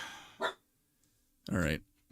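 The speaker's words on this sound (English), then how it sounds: "Sorry about the dog barking" A dog barks twice in the background, two short sharp barks a second apart, with a voice briefly speaking.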